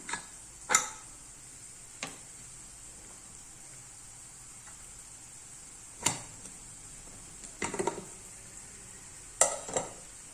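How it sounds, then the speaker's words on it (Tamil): Onions sautéing in a pan toward a light golden colour, a faint steady sizzle broken by a few sharp clacks of stirring against the pan. "வெங்காயம் வந்து லைட் கோல்டன் கலர் வரட்டும். அது வரைக்கும் வதங்கட்டும்."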